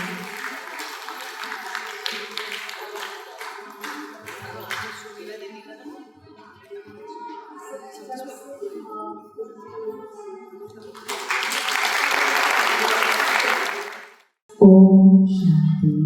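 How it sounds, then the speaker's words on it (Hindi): Audience applause welcoming an elderly honoured guest onto the DRC stage at a 100th birthday celebration: a speaker talks at first, then a dense, loud wash of clapping swells for several seconds before cutting off. "सब बहुत जोरदार तालियों से हमारे दीदी का DRC के स्टेज पर स्वागत करेंगे।"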